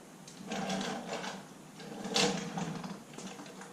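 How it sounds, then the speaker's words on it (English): A brake rotor comes off the front hub of a Polaris RZR XP1000, quiet metallic scraping and clunks in a few uneven bursts, with one sharper knock midway. "Pull your rotor off"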